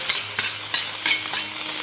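Mung bean sprouts and shredded pork are stir-fried over high heat in a wok, giving a steady loud sizzle broken by rhythmic scraping tosses about every half second.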